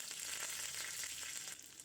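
Curry leaves sizzle in hot oil with mustard seeds, cumin and crushed garlic, tempering for a moong dal rasam; a steady, close crackling fry hiss carries on throughout with no talk.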